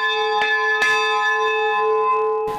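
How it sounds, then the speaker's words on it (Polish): A smaller replica of the Tuba Dei church bell rings loudly and close, several strikes with a rich sustained tone that hums on between hits. "Na jednym ze stanowisk odtworzono w mniejszej oczywiście wersji dzwon Tuba Dei"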